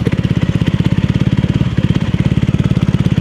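A motorcycle engine idles close by with a fast, even pulsing putter that stays steady throughout, loud and unaccompanied by talk.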